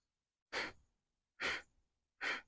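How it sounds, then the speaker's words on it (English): Three slow, deep breaths during a yoga breathing exercise, each a soft airy rush separated by quiet pauses, close and fairly faint with no talking. "And so you're breathing in."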